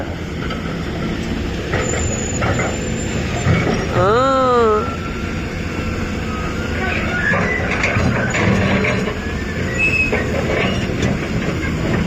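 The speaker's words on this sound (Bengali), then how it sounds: "ট্রেন গেল, ট্রেন ট্রেন যেতেছে" A train passing at a suspension bridge construction site in Mymensingh, a steady rolling rumble with a brief high wheel squeal partway through, over constant background noise and occasional faint sounds.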